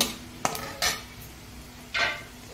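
Food with black cumin being stirred in a cooking pan, with three or four distinct scraping strokes of a utensil against metal spaced across a couple of seconds, over a faint low hum, close and fairly loud.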